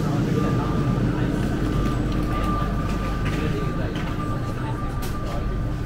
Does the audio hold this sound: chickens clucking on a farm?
no